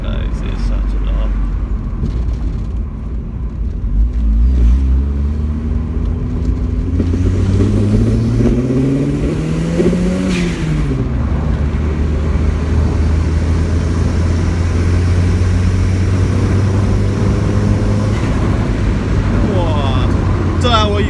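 A car engine is floored at full throttle, its revs climbing in rising sweeps before settling into a steady, loud drone close by, with voices at times.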